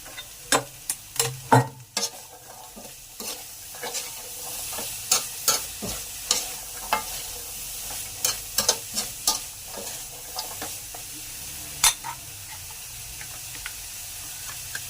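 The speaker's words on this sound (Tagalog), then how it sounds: "Lagyan na natin yung carrots at patatas." Chicken menudo with added carrots and potatoes frying in a pan, stirred with a steady run of sharp utensil clacks and scrapes over a soft sizzle, close and without talking.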